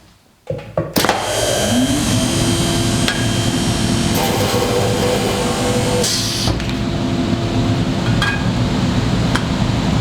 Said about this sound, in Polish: Tutaj tradycyjnie wielobrzecionówka, cztery otwory